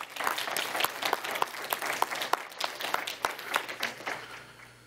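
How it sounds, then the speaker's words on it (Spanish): A church congregation applauding during a sermon, a dense burst of many hands clapping at moderate distance, fairly faint and irregular, tapering off toward the end. "De un aplauso al Señor."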